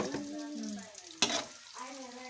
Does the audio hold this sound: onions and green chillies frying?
yes